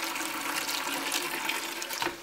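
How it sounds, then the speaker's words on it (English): Tap water runs steadily while Kool-Aid is being made, a continuous loud hiss and splash with no pauses. "First turn on the water."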